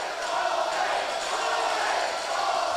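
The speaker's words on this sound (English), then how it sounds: "The whole crowd trying to get behind Allday" A wrestling crowd at a live Texas City event cheers steadily for Will Allday, producing a dense, continuous roar of massed voices with no breaks.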